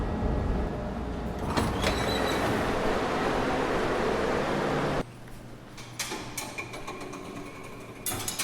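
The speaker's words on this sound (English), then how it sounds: "I spotted my Metra train passing us" A Metra commuter train rumbles past in a loud, steady roar, then the noise drops abruptly to a quieter interior hum with clanks and rattles.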